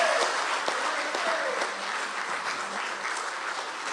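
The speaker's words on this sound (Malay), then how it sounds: "Dan kita berikan tepukan gemuruh kepada calon kita." Crowd applauding a candidate at a by-election campaign rally, a steady dense clapping that fills the space throughout without pause.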